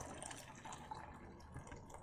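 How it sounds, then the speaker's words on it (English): Hot water pours for green tea in the video game Tokyo Dark, a soft steady trickle of liquid running for about two seconds at low volume. "And let's pour some hot water."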